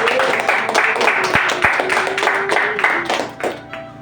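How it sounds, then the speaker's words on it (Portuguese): A church congregation claps in loud, fairly rhythmic applause for several seconds, with many hands close together before it begins to thin out at the end. "Você pode dar uma salva de palmas para o Senhor, por favor?"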